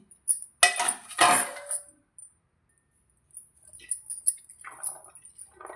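Peanut chaat with chopped tomato is stirred in a bowl, a spoon scraping and clinking in short close bursts with quiet pauses between them.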